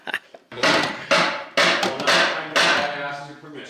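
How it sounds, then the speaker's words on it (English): Loud, repeated hammer strikes on metal parts of a 1/6 scale metal tank model ring out in uneven bursts, each blow followed by a sustained metallic resonance, close by. "Will someone please stop the hammering?"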